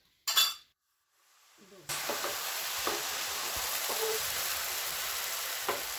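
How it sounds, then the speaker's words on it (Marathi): Dosa batter made from ration rice hits an oiled griddle after a brief clink, then sizzles and crackles steadily at close range, with a few small scraping sounds over the even frying hiss. "बघा आता टाकली ह्यात द्वाशी."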